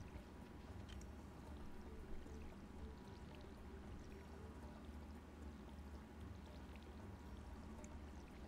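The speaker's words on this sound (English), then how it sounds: "One more fill up of water." In the Stardew Valley video game, water pours steadily into a watering can as it is refilled, a continuous quiet gurgling rush lasting several seconds with no voices.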